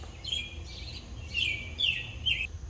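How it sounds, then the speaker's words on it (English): Repeated loud bird calls, a series of shrill chirping bursts near a shed where a 1972 Wheel Horse Raider 12 lawn tractor is being worked on, with steady low background rumble. "I don't know what kind of bird that is."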